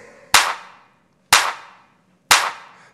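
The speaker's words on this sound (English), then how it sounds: "Party people, clap your hands" Three sharp, evenly spaced hand claps ring out in a dance song, each crisp and loud with a short decaying tail, separated by near silence.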